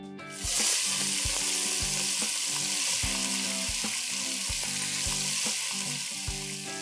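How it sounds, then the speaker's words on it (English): Surti papdi goes into hot oil seasoned with carom seeds and asafoetida over a lowered flame, giving a loud, steady close-up sizzle with a faint rhythmic ticking underneath throughout. "I'm now going to reduce the flame and add my first layer of surti papdi."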